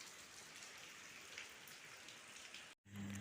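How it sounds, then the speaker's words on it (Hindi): Rain falling outside, a soft steady patter heard from indoors, continuous and fairly faint, cut off by a short silent break near the end before a low hum returns. "बाहर बारिश हो रही है"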